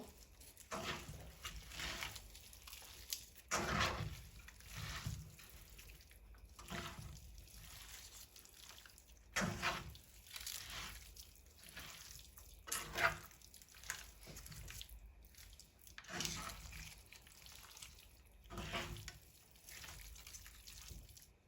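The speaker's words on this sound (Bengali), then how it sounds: "এবার আমি সব উপকরণগুলো মাংসের সাথে খুব ভালো করে মাখিয়ে নিব।" Hands mixing spices and other ingredients into raw beef, giving soft wet squelching and slapping in repeated bursts, close and fairly faint, with a steady rhythm of kneading strokes.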